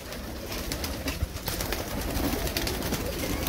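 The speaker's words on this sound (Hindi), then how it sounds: "तो ये कबूतर है, ये देखें" Pet pigeons in a loft in Sangrampur, Jammu, coo softly amid a dense, noisy background of rustling and ambient clatter, the low calls repeating irregularly.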